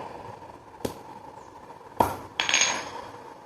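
Hard-shelled bael fruit being struck and cracked open by hand while making chutney, giving three sharp knocks, the last followed by a brief crunching rattle, close and fairly loud with no talk.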